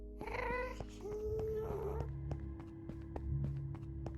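A cat meows from the video game Minecraft, a few short calls near the start, followed by soft repeated clicks and game sounds with no talk.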